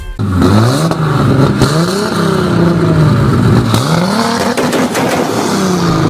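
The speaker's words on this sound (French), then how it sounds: "Le 2JZ GTE de 330 chevaux et 440 Nm est un moteur 6 cylindres en ligne biturbo." 2JZ-GTE twin-turbo inline six-cylinder engine rated at 330 horsepower, revving loud and close in repeated rising and falling sweeps, the pitch climbing, dropping back and climbing again across several seconds with no talk over it.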